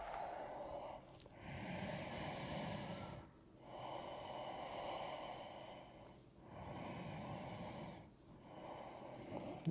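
Deep, slow breaths while holding a reclined forward-fold yoga pose on the back, three long airy breath cycles separated by brief quiet pauses, close and steady with no talking.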